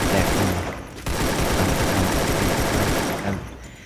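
Continuous automatic gunfire in the Free Fire battle game, dense and loud with a brief gap near the first second, then sustained rapid shots that taper slightly toward the end.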